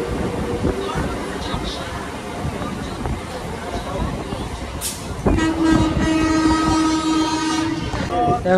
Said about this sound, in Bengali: সাঁতরাগাছি স্টেশনে কিন্তু রানিংয়ে ট্রেন বেরিয়ে চললো।